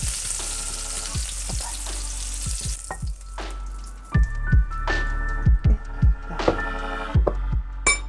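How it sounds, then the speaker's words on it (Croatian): Meatballs frying in a pan, a close steady sizzle with a low rumble beneath and a series of sharp clattering taps and pops, louder and more broken in the second half. "Da nastavimo sa prženjem sve dok imamo testa za ćufte."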